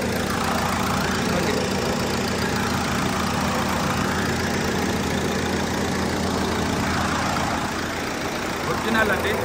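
A car engine idles under an open bonnet with a steady, even hum, while voices talk faintly nearby.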